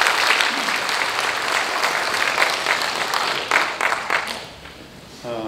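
Audience applause at a university president's inauguration ceremony in Busan, a steady dense wash of clapping from a large crowd that thins toward the end.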